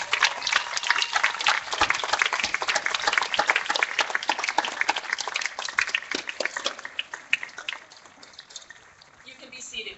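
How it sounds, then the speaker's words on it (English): Graduates at a 2015 graduation ceremony applaud their teachers, family and friends in a long round of clapping that swells, holds steady, then thins to scattered claps as a few voices carry over it. "give a round of applause to your teachers"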